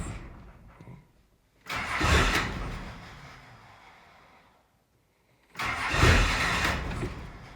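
First-generation Cummins diesel engine cranking and catching twice, each start rumbling loudly for a few seconds before dying away into quiet, nearby.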